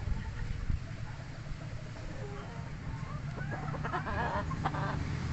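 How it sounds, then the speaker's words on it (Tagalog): A brood stag rooster clucks in short bursts near the microphone, its calls rising toward the end over a steady low rumble of background noise. "Ito po yung brood stag natin."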